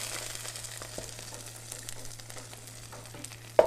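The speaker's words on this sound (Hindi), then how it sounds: "अब इसको गरम गरम इसमें डाल" Hot garlic oil poured into chicken corn soup, giving a steady close sizzle and crackle with a low hum beneath and a sharp knock at the very end.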